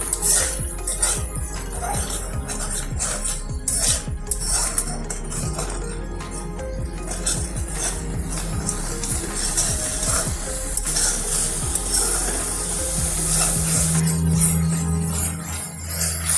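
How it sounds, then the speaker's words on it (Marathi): Ground masala paste sautéing in oil for bhogi vegetable dish, a steady close sizzle and hiss with scattered scraping and clinks of a spoon against the pan, continuous throughout. "आपल्याला ह्या वाटणाला तेल सुटतपर्यंत असं परतून घ्यायचं आहे."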